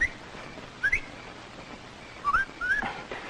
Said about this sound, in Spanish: Si oye algún ruido extraño o ve algo raro, silbe así.